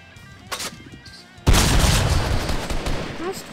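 A loud, booming shotgun blast in Fortnite erupts after a few lighter clicks and taps, followed by a long, rough rumbling decay with scattered game effects.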